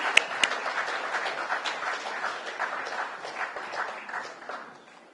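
Audience at a live-streamed event applauding an honoree, a steady wash of many hands clapping at moderate distance that slowly fades toward the end, with no talk over it.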